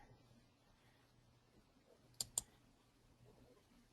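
Two quick computer mouse clicks on a download button in crafting software, faint and close in a quiet room with a low hum.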